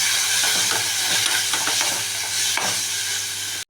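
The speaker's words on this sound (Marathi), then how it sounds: "जो कुरडईचा भुगा भिजवलेला आहे तो टाकून घेतलेला आहे" Soaked kurdai crumbs with turmeric fry in a pan, a steady sizzle with scraping stirring strokes throughout, close and fairly loud, ending with a sharp knock.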